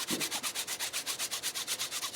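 A flap sander works a coin ring, giving a fast, even rhythmic rasping that pulses about eight times a second, close and steady throughout, with no talk.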